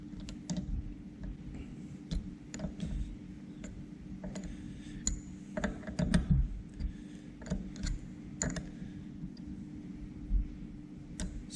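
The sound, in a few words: torque wrench tightening joiner knife screws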